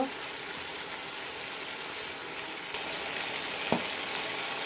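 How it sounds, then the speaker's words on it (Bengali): Small pieces of chicken fry in a pan with a constant, moderately loud crackling sizzle, broken by a few faint clicks and one sharp tap of a utensil. "চিকেনের সাথে রসুন কুচি দিয়ে দিব, ভালো করে ভেজে নিব।"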